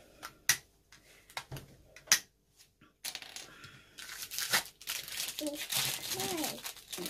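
A sticker peeled off a child's toy gives crinkly, tearing rustles and scattered sharp clicks, starting sparse and growing into a denser scratchy stretch of close handling noise toward the end.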